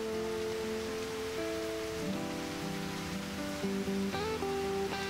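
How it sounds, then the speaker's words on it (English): Steady hiss of rain falls in Crisis Core Reunion, a continuous wash of noise running under sustained musical tones throughout. "Terrible day for rain."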